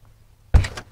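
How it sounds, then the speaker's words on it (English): A door thumps open close by after a second of near silence, followed by a brief second knock or rattle, with no talking. "now we're going to see if we can open this door."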